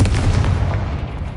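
Confringo, a fiery blast spell in a wizard video game, goes off as a short, loud, heavy boom with a rumbling low tail lasting about a second and a half.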